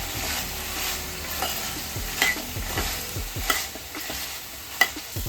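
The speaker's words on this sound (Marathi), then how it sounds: "वाटाणे, गाजर, परत जो कढीपत्ता पण टाकायचो ते सोबतच, आणि फ्लावर। हे आता सगळं परतून घेऊया।" Peas, carrots, curry leaves and cauliflower, alongside green beans and potatoes for veg pulao, sizzle steadily in a pan while a spoon stirs and scrapes through them, with occasional louder clinks standing out over the continuous frying hiss.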